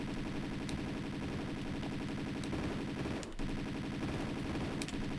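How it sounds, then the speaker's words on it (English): Rapid, sustained Uzi fire in Tomb Raider II, a continuous rattling stream of shots at moderate volume with a brief break near the middle and a few sharper cracks on top. "bring out the Uzis"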